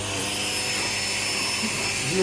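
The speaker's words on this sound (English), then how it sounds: "So I'll just hoover that" A vacuum hoovers sand, pebbles and debris out of a garden pond during a DIY pond upgrade, giving a constant, close, steady roaring whine with slight rattles of material being sucked up.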